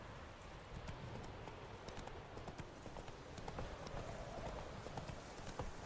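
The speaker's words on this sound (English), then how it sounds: "Come here, little horsey." Horse hooves clip-clop steadily in The Witcher 3, a quick trotting rhythm that is faint and fairly close, heard alone without talk.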